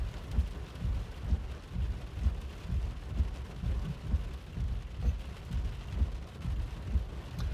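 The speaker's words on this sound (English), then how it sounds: "The rain got incredibly intense and was cutting through my signal." Heavy rain during an Arizona thunderstorm pours steadily and loudly, a dense rumbling wash with low thudding pulses, and no one speaks.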